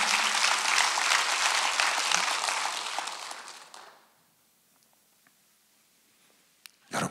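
A church congregation at a Sunday service applauds in a full, even round that gradually fades to near silence, with a small sound close by at the very end.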